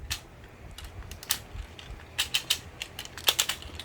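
A Tobot Pop toy robot's ratcheting plastic waist joint turns, giving small sharp clicks, single at first and then in quick close bursts against a quiet background.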